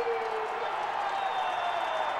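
A sellout college football crowd at Commonwealth Stadium in Lexington roars in a steady, dense wash of cheering before kickoff, Kentucky hosting Tennessee in 2007, with a commentator's voice over it.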